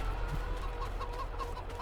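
Chickens in a coop in Farming Simulator 22 keep up a steady chorus of repeated clucks and soft calls, moderately loud with a low hum underneath and no talk.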